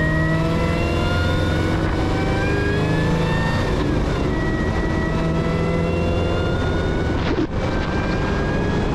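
A supercharged LT1/LT4 V8 gets throttle blips at slow speed, heard from inside the car: a loud steady drone with rising and falling engine tones and a high blower whine layered on top.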